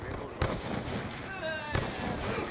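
Rifle fire in Black Ops 2 multiplayer, two sharp gunshot cracks about a second apart with an echoing tail between them, over steady game background noise.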